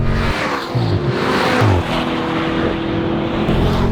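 A BMW M5 F90, a 4,000-pound saloon, is driven hard on a race track, its engine roaring loud and close inside the cabin, rising and dipping through gear changes with brief tire noise.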